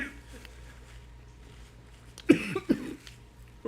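A person coughs a few times in quick succession after tasting something very spicy, short harsh bursts close by following quieter room noise.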